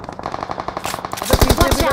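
Rapid automatic gunfire rattles in a battle royale video game, starting as quieter, farther bursts and then turning into loud, close, fast machine-gun volleys.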